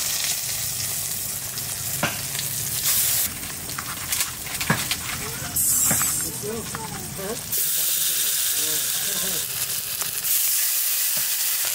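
Pumpkin flower fritters (bora) in a rice-flour batter sizzle steadily as they fry in hot oil, with occasional stirring clinks and scrapes and brief voices in the background.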